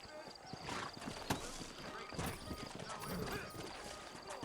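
Horses in Red Dead Redemption clop along at a walk, hooves striking in an uneven rhythm with occasional snorts, fairly close amid outdoor ambience and some background voices.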